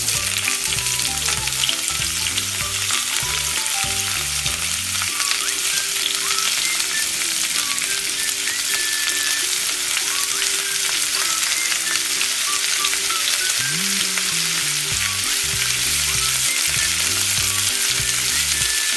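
Garlic, ginger and onion sautéing in a pan, a loud steady sizzle and crackle of frying throughout, with a low rhythmic clatter of stirring underneath.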